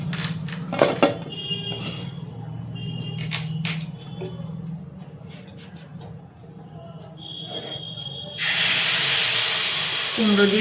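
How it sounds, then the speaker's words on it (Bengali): Tap water rushes into a basin while Malabar spinach is washed in a home kitchen. After background clatter and murmuring, a loud, steady broadband gush begins near the end and continues. "ধুতে হবে তো পুঁই শাকটা।"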